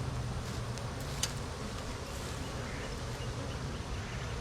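Honey bees buzzing around an open hive with a queen excluder in place, a dense close hum that is steady for about four seconds and has no talk over it.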